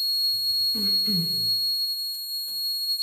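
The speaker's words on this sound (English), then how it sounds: "So it seems like a water detector inside the bathroom is going off." A water leak detector in a bathroom sounds a steady, piercing high-pitched electronic tone that holds for the whole stretch, with someone speaking over it partway through.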